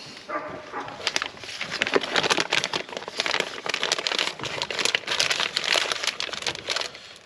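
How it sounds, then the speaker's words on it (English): A plastic bag crinkling and rustling in close, repeated crackly bursts during a thermostat job on a 2015 Jeep Grand Cherokee Limited EcoDiesel, with no talking. "I'm still going to put the plastic bag on."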